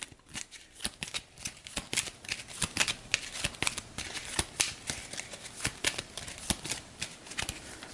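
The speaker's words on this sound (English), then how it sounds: "So I'll give this a quick shuffle." A deck of cards is shuffled during a World War II board game, a run of quick riffling snaps and sharp flicks in an uneven rhythm, close and clear with no talk.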